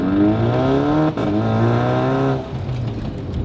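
A Volkswagen Scirocco with a DSG gearbox is driven hard, its engine note holding steady and rising, then dropping away partway through as the car brakes; loud and close from inside the cabin with no talking.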